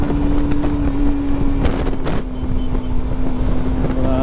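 Bajaj Pulsar NS200 motorcycle engine running steadily while riding on a winding road, a continuous close engine drone with heavy wind rush across the microphone and no speech.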